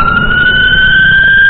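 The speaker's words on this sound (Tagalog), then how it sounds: "Ambulansya." An ambulance siren sounds on the road, a loud, close steady tone holding a sustained wail throughout, with traffic rumble faintly underneath.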